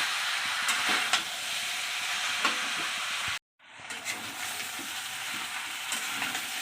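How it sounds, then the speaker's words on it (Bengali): Chicken and jackfruit curry with potatoes sautéing in a pan, a steady close sizzle and frying hiss with occasional stirring scrapes, cut by a brief moment of silence midway. "10-15 মিনিট কষিয়ে নেব ভালো করে।"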